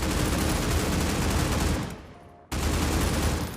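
Sustained loud automatic gunfire in the mobile shooter game Critical Ops, a dense continuous barrage that drops away briefly before resuming at full volume.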